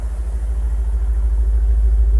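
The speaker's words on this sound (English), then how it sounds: "Runs pretty well, but listen to that exhaust." 2000 BMW M5 exhaust at idle, a steady deep burbling rumble heard up close, slightly pulsing and growing a bit louder, with no talking.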